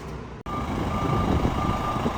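Steady reversing beeps sound from an FDNY reserve fire apparatus backing into quarters on Governors Island, the repeated tone riding over a rumbling truck engine, close and fairly loud.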